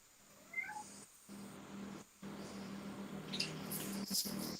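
A hungry cat meowing faintly and briefly over a low steady hum, followed by a few soft high-pitched cries later on.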